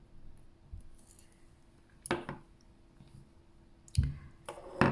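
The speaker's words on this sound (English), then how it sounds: "So if we cut another piece of wire, approximately 8 centimeters" Cutters snip jewellery wire while a bracelet is made, giving a few sharp, close metallic clicks spaced apart in an otherwise quiet room.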